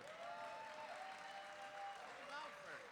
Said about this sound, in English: And the crowds go wild.